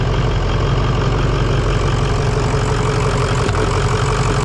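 A 6.0 diesel truck engine idles steadily after a jump start, a loud, close, even rumble with a rhythmic knocking clatter and no voices.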